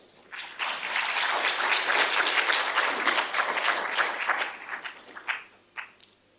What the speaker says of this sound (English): Can we give a round of applause to the mayor?